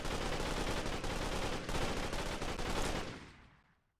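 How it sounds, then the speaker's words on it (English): A Thompson submachine gun with a drum magazine fires in a video game, with a dense, continuous burst of rapid shots for about three seconds before the sound tails off. No one speaks. "very clearly a Thompson submachine gun with a drum magazine"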